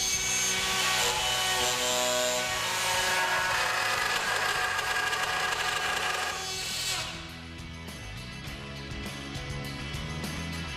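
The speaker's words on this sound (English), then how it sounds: "Having drilled the hole," A power drill bores a hole for a concealed hinge through a Ceam drilling template fitted with an insert, the motor whining steadily and loudly for about seven seconds before the sound drops to a lower, quieter run-down.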